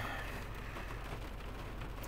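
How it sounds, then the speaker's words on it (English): Heavy rain falls outside in a steady, dense hiss that holds level for the whole stretch, with a low rumble underneath and no voices. "it's raining like crazy over here"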